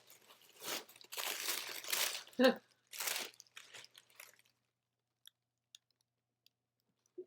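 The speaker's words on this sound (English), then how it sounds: "I'm not unwrapping it nicely." A gift is unwrapped roughly, the paper crinkling and tearing in several loud, close bursts over the first four seconds, then a few faint scattered clicks in near silence.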